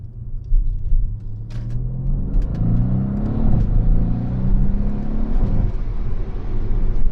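Deep, loud engine rumble from a Mercedes-AMG C63 S V8 with catless downpipes idling close by, the throaty exhaust note swelling briefly as it revs, then settling back to a steady burble.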